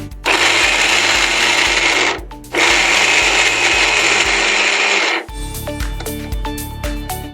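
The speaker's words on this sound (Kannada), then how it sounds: "ಸೊ ಈಗ ಇದನ್ನು ನಾನು ಜಸ್ಟ್ ರಫ್ ಆಗಿ ಸ್ವಲ್ಪ ಮಿಕ್ಸಿ ಮಾಡ್ಕೊಳ್ತಾ ಇದ್ದೀನಿ" A mixer grinder coarsely grinds pulses in two loud, steady whirring bursts of about two and three seconds, separated by a brief pause, and then winds down and rattles to a stop.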